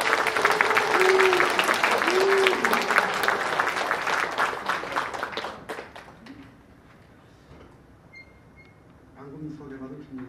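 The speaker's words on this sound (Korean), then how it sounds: "여러분 큰 박수로 축하해 주시면 고맙겠습니다." An audience at a concert claps steadily for several seconds, the applause thinning out and fading before a voice begins speaking.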